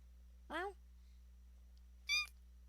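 A human voice imitates a cat with two short high meows about a second and a half apart, close and clear over a low steady hum, with no other talking.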